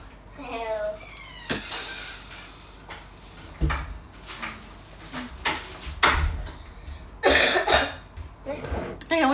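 Several coughs from a person on an indoor live stream, short sharp bursts scattered through the stretch, with some handling knocks and background noise between them.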